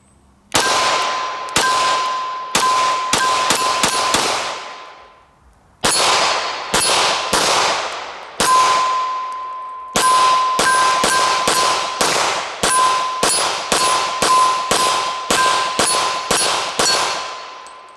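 A Smith & Wesson M&P pistol in .40 caliber fires strings of shots at steel targets from some distance; each loud crack is followed by a ringing metallic clang, in rapid runs with brief pauses.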